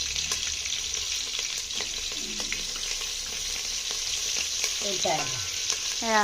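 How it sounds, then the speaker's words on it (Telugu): Cumin seeds and green chillies frying in hot oil, a dense continuous sizzle and crackle close up, with a few short tonal squeaks near the end and no talk. "జీలకర్ర జీలకర్ర వేడయ్యాక పచ్చిమిర్చి వేయాలి"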